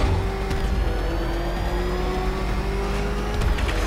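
In Batman: Arkham Knight, the Batmobile races with a loud, continuous engine roar and whine, steady high-revving drone and faint tire noise filling the whole stretch without voices.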